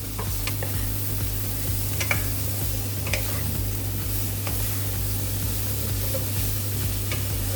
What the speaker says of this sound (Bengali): এবার মশলাটাকে কষে নেব।